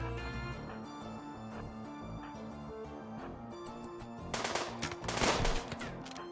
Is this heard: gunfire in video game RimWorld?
yes